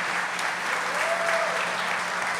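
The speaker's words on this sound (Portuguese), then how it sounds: "Aplauda ao Senhor por esses" A church audience claps in a sustained burst of applause, steady and moderately loud, heard on its own without speech.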